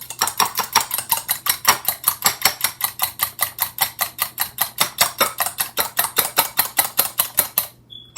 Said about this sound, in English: And you whisk the eggs